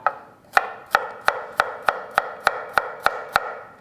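A knife slices carrots into thin discs on a cutting board, giving about ten crisp, evenly spaced chops close to the listener, each with a sharp strike and a short decay, with no talk.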